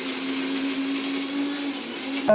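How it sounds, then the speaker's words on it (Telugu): A mixer grinder whirs steadily, grinding almonds with milk, cardamom powder and saffron for badam milk. The motor gives a continuous close whine that ends with a brief clunk. "ఫైన్గా గ్రౌండ్ ఇదవుతుంది గ్రైండ్ అవుతుంది"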